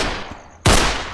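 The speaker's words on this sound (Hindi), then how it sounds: "फायरिंग हो गई।" Sudden loud burst of gunfire in a tense drama scene, a single sharp crack followed by sustained, ringing reverberation after a quieter stretch of ambient noise.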